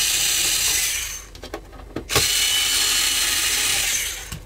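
A power drill backs a screw out of a Yamaha MG10XU mixer, with short whirring bursts and pauses followed by a long steady motor whine, loud and close.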